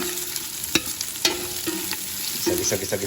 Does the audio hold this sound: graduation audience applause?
no